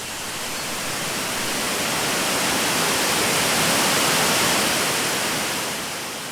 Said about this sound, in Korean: 두타산 무릉계곡이 품고 있는 폭포는 목탁 소리와도 같다고 합니다.